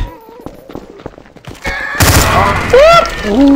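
Counter-Strike: Source gunfire in a zombie escape map erupts after a couple of seconds of quieter clicks and shuffles, a loud continuous burst of rapid shots with overlapping whining tones, close and dominant.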